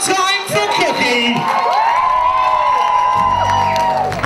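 An audience cheers and whoops loudly for a performer named Cookie, with rising and falling shouts and a few claps blending into a steady, close crowd roar.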